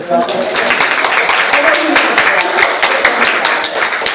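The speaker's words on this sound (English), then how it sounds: "And so give him a round of applause." Close, loud clapping from a small audience at a tea party, with sharp individual hand claps in a quick, steady rhythm and a murmur of voices underneath.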